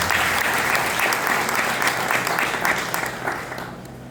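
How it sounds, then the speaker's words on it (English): A seated audience at a Kenya–America partnership event applauds in a dense, sustained round of clapping. It stays strong for several seconds, then tapers and fades in the final moments. "Clap for them."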